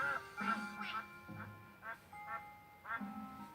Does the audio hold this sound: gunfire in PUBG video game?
no